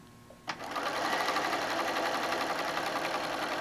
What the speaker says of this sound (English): You're just sewing right through it.